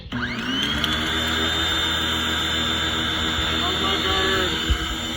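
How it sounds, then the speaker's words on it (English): A pressure washer runs at a loud, steady whine with a droning motor hum that rises as it spins up and then holds, up close in a workshop. "We got a pressure washer. Let's go."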